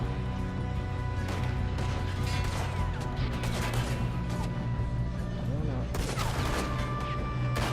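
Dense gunfire from the video game Red Dead Redemption 2: repeated loud shots and cracks in rapid bursts over a busy game soundscape, with voices talking intermittently.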